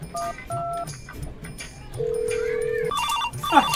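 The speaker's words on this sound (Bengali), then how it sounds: "যা তো কালা মিস্ত্রি ফোন করুন" A telephone keypad sends a run of DTMF dialing tones, several short beeps and then longer tones, followed by a ringing tone in a Bengali comedy sketch. The sounds are close and clear, with faint talk underneath.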